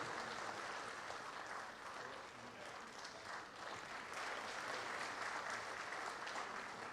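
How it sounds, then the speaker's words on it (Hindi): An audience at an official language conference claps to welcome Governor Arif Mohammad Khan, sustained even applause, fairly faint and distant, continuing throughout. "आप लोग जोरदार तालियों से स्वागत करें"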